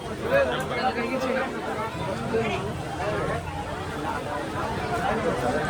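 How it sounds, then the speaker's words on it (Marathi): A dense crowd of devotees fills the Akkalkot Swami Samarth temple with a continuous, close babble of overlapping voices and general hubbub. "भरपूर गर्दी आहे"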